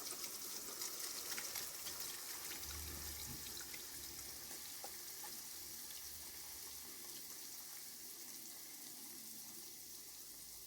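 Homemade carrot oil pours from a vessel into a container, a steady liquid trickle running nearly continuously for about ten seconds at close range with no talking.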